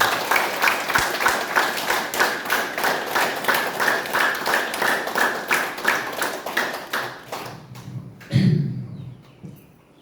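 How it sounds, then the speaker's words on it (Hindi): An audience at a Haridwar gathering gives loud, rhythmic applause, dense claps pulsing steadily for about seven seconds before trailing off, followed by a single thump and quiet. "जोरदार तालियां होनी चाहिए आपके लिए।"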